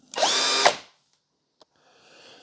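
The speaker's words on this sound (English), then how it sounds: "And then here's the cordless drill." A Denali 20V cordless drill whirs in one short, loud burst lasting under a second, followed by a small click and a faint, quieter whir trailing off.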